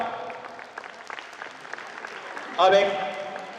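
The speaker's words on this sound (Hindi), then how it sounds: "आप लोग एक तालियां बजा करके हमारे फोर्थ ईयर वाले सर का" Audience applause for a fourth-year teacher at a college event, a steady patter of clapping under voices and calls, swelling suddenly into louder cheering near the end.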